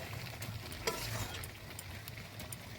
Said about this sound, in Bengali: এবার ভালো করে 5 মিনিট ধরে কষবো